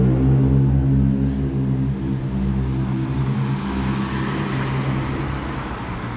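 Heavy street traffic rolls past in a continuous low roar of car and larger vehicle engines, close and fairly loud, easing slightly toward the end, with no talking.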